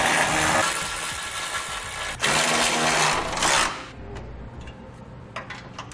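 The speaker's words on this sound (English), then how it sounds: "now we'll tighten down the bolts and then torque them down as described in the instructions" Power tool driving a 19mm socket to tighten and torque the bolts of a CURT Class III receiver hitch on a 2014 Toyota, a loud sustained whir with a brief pause midway, then cutting off to faint clinks.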